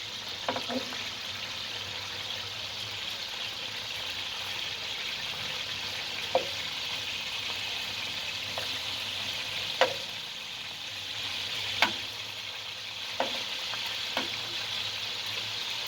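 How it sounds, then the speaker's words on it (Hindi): Eggplant slices shallow-frying in a pan after being turned, a steady hissing sizzle throughout with occasional soft utensil taps, close and unaccompanied by speech. "हमारे बैंगन बहुत ही अच्छी तरह फ्राई हो रहे हैं"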